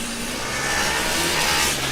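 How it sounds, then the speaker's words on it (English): A Formula Student race car tears around an autocross course with its engine revving hard and steadily, close and loud, with slight changes in pitch through the run. "Pops and crackles emerge and a big slide onto the first turn"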